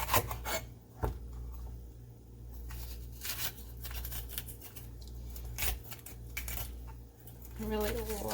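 A knife chops green onion into small pieces on a cutting board, giving quiet, irregular taps and scrapes close by over a low steady hum, with no talking.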